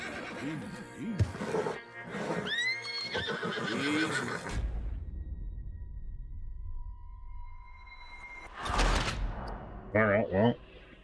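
A horse in Red Dead Redemption 2 gives several high, wavering whinnies and snorts, with a low rumble in between, a later burst of noise and another short neigh near the end.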